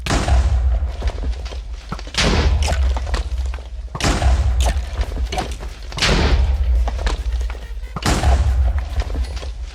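In a Minecraft UHC match, heavy booming blasts from exploding blocks go off in a regular series, each one loud with a long rumbling tail, about five in total and spaced roughly two seconds apart.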